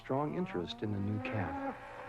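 Cattle on a farm moo in a run of several close, loud calls, a cow with her newborn calf among the herd, the lowing rising and falling with only brief gaps between calls.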